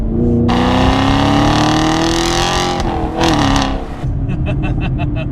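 A 6th-generation Chevrolet Camaro LT1 V8 with an MPP exhaust revs loudly and steadily, rising in pitch and then dropping, with a rough, throaty exhaust rumble that settles into a lower idle.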